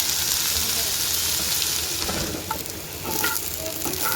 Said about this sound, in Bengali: পেঁয়াজগুলোও রসুনের মতো ভেজে নেব লাল লাল করে